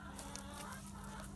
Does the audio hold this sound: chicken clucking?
yes